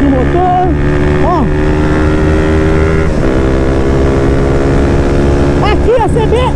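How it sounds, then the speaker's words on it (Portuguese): A Honda CB 300 motorcycle engine drones loud and close at top speed, a steady high-revving roar with rising and falling whines as the throttle shifts; a rider talks briefly over it. "Aceleradinha gostosa, fazer o painel travar 180, sem judiar muito de motor"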